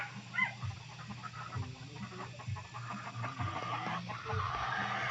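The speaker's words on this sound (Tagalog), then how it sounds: "Alaga ng pamangkin ko. Broiler to guys." Broiler chickens raised on a backyard farm cluck in low, intermittent bursts against steady background noise, with no talking.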